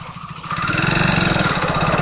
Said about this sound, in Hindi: साउंड कैसे हो रहा है इंजन